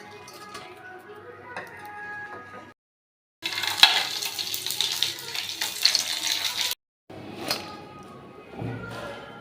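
Pitha frying in hot oil, a bright close sizzle broken by short silent gaps, with occasional thuds and scraping from the pan and faint background sounds.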